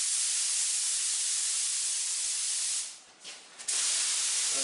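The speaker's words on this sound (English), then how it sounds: "spray the Galaxy Gray Metallic in my touch-up gun here on top of the plastic" A touch-up spray gun sprays Galaxy Gray Metallic paint onto plastic, a loud steady hiss that stops briefly in short pulses before resuming.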